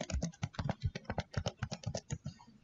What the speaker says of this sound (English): I'll type in my username and password,